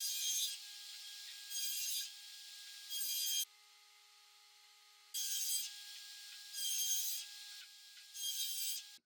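Table saw fitted with a flat tooth blade cutting plywood in a home workshop, with five loud rasping cuts separated by pauses under a steady motor whine that continues between passes.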